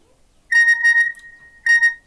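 A phone chimes with an M-PESA payment push notification: two bright electronic tones, the first held longer, then a shorter repeat, clear and close with no talk.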